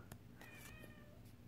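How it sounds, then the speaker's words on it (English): A pet cat meows from outside a closed room, a few short faint cries against a low steady background hum. "Sorry if you hear my cat meowing, she wants in the room."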